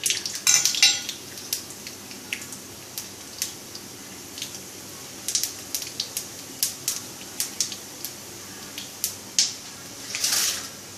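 Oil crackles and pops in sharp, scattered bursts as mustard seeds, urad dal and cumin are tempered, with a few clinks of a utensil against the pan and a brief louder sizzle near the end.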